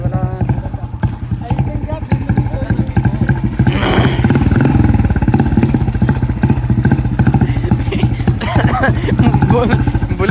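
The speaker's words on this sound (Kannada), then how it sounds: "ಯಾವುದೋ ಬುಲೆಟ್ ಹೋಗ್ತಾ ಇದೆ" Royal Enfield Bullet motorcycle passing at night, its rapid thumping engine beat growing louder and peaking around the middle before holding steady, heard amid a busy roadside.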